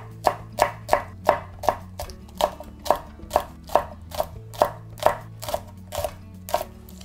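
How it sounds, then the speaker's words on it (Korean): Knife chopping Cheongyang chili peppers on a cutting board: a steady run of crisp, even thuds, close and clear, about two per second with no talking. "청양고추도 송송 썰어주세요"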